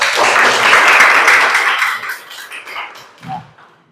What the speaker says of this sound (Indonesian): Ya, kasih aplaus.